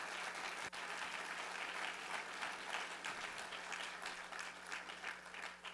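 An audience at a university State of the University address claps steadily throughout, a soft, somewhat distant wash of applause.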